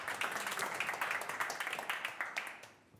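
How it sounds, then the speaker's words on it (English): A small audience applauds at an evening tech meetup talk, a patter of many hands clapping at moderate distance that gradually thins out and fades toward the end. "So big applause for JP."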